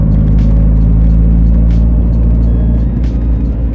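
A Nissan Pulsar GTIR with a newly built engine driving along, its motor giving a loud, smooth, steady rumble heard from inside the car with no talk.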